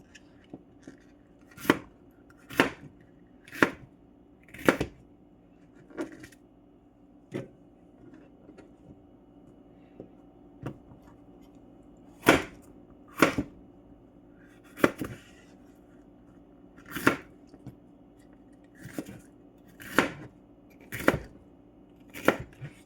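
Knife chopping prawn-dish ingredients on a cutting board at home, sharp clean taps coming in small irregular clusters with quiet pauses between, close and distinct with no talk.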